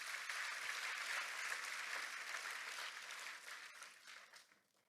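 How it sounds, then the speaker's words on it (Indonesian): A church congregation applauds together, a broad wash of clapping that holds steady for several seconds and then fades away, with no talking over it. "Dan tepuk tangannya yang paling meriah buat Tuhan kita"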